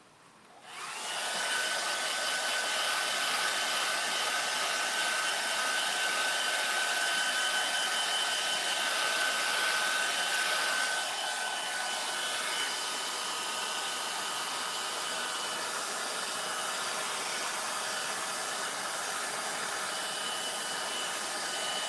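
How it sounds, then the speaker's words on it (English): A hair dryer dries paint on a WoodCast moldable wood pulp appliqué. It starts up and then blows a loud, steady, close rushing whoosh for about twenty seconds, with no voices. "Now I'm gonna hit it with a hairdryer again."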